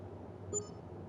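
A single short electronic beep sounds once, quiet and brief, over a low steady hum from the video game Farming Simulator 22.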